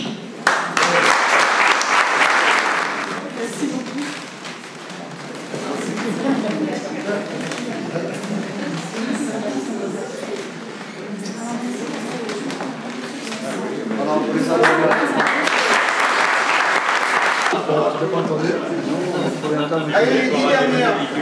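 Bursts of audience applause at a French awards ceremony for the country's best apprentices, one loud sustained round near the start and another later, with a speaker's amplified voice talking between them in a large hall.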